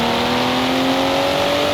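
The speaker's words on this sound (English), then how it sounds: "the sound of this car was actually recycled onto many 6-cylinder cars in this game" A recycled six-cylinder car engine from Forza Horizon 4 holds a loud, steady drone with a slowly rising pitch, accelerating continuously without a break.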